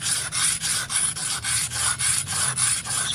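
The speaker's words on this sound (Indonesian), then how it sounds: "kamu harus pakai air ya, karena ini batu asah. Kita basahin dulu. Terus kita gosok seperti ini." A dowel-making knife blade is rubbed back and forth on a wet whetstone in about a dozen steady, rhythmic rasping strokes, close and loud, with no talking.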